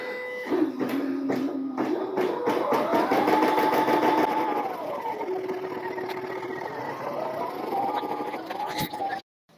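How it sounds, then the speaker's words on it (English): A Caydo CE01 smart embroidery machine stitching, its rapid needle clatter running under a whirring motor tone that rises and falls in pitch, steady and fairly close before stopping abruptly near the end. "final thoughts on this embroidery machine"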